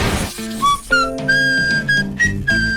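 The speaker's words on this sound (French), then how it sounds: "J'adore siffler des airs différents." A person whistles a short tune at close range, with clear, bright notes that change pitch in a few quick phrases and short gaps between them, and no speech.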